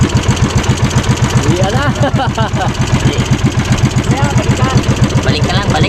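A boat engine idles with a steady, rapid chugging pulse throughout, close and fairly loud, while people talk over it.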